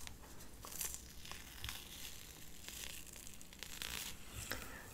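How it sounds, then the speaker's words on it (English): Something being slowly peeled off during an ASMR scalp-check session, a soft close crinkling and tearing texture that runs continuously at very low level, no talk. "so let's just peel now"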